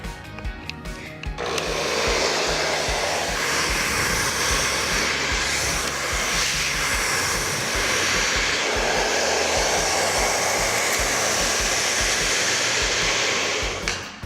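Hair dryer on high heat and low power, used with a round brush during a hair-straightening session, starts after a brief click and roars steadily and loudly up close for over twelve seconds.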